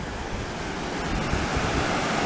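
A small waterfall, Pro Falls, rushes in a continuous, dense roar of falling water, loud and steady throughout with no voices.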